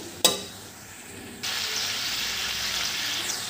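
Kheema, cauliflower and peas masala curry is stirred in an oily pan, a sharp clatter at the start, then a low sizzle that swells into a steady louder frying hiss, no voices.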